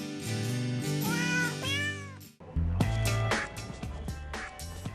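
Cats meow over a backing of music in a popular Hollywood cat-song recording, several drawn-out, pitched meows sung in a melodic line before a short pause and a busier musical passage.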